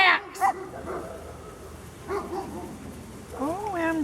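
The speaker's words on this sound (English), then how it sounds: "chase the little dog" A small dog gives a few short yips and whining whimpers in brief bursts, fairly close, with quiet gaps between them.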